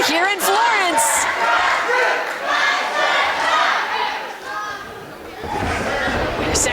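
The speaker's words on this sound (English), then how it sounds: "crowd seems pretty split here in Florence" An indoor wrestling audience in Florence chants and shouts in waves, a loud crowd roar with chatter and voices swelling and dipping across the whole stretch.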